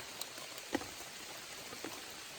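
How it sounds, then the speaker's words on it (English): Rain falling on a backpacking tent on the Appalachian Trail in Connecticut, a steady soft patter with a few slightly louder individual drops, faint and even throughout. "it's already been raining a lot, and it's probably going to rain more"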